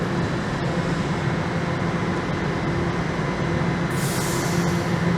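A Toronto TTC subway train rolls into a station with a loud, steady rumble of wheels on track. A brief high squeal rises near the end, and no one speaks.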